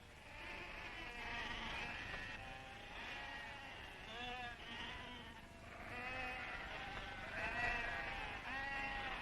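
Sheep from an Algerian flock in the Sahara bleat repeatedly, several animals calling over one another at moderate distance, with buzzing insects and a faint outdoor background throughout.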